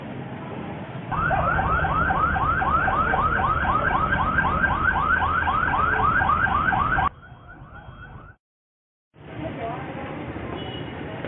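A cardiac ambulance's siren wails loudly and close by in rapid, repeating warbling cycles. It drops away briefly near the end, then resumes.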